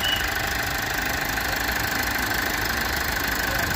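A 2-litre diesel car engine idles close by with a steady, even mechanical drone and a slight knocking texture, constant throughout, no voices.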